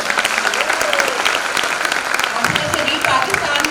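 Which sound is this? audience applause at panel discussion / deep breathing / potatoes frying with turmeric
audience applause at panel discussion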